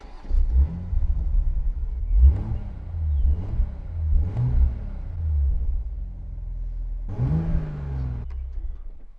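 A single-turbo Toyota Supra Mk5 engine is revved in four or five short, deep blips, then one longer rev after a brief lull, all loud and close with no talking.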